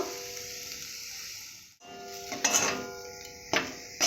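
Banana fritters fry in a pan with a steady, soft sizzling hiss, interrupted by a brief pause and a few sharp clinks of utensils against the pan.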